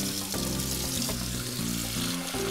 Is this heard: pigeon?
no